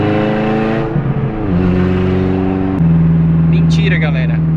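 A Renault Clio with the 1.6 K4M engine revs loudly nearby, its harmonic engine note climbing and settling, then holding at a higher steady pitch, with voices talking over it.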